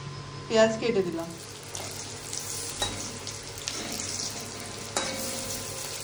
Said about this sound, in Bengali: কম কম করে ভাজছি, ভাজাটা হয় ভালো করে।